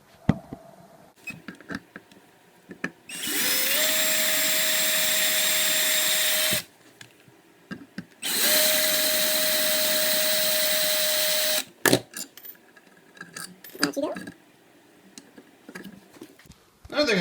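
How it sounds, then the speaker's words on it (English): Vacuum cleaner sucking debris out of an electrical box during a tile backsplash job, running in two steady loud bursts of about three seconds each with a constant whine, then switching off, with scattered handling clatter between and after. "I'm going to go and vacuum out all this crap in here"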